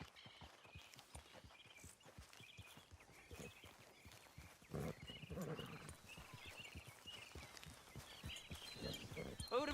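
A horse ridden in Red Dead Redemption 2 trots along with steady rhythmic clip-clop hoofbeats, close and fairly quiet, with occasional snorts and a voice speaking over the ride.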